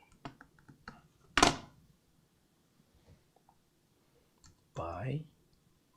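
Scattered clicks and taps of typing on a mini PC keyboard, a few light keystrokes followed by a louder knock and a brief rustling scrape, mostly quiet between sounds.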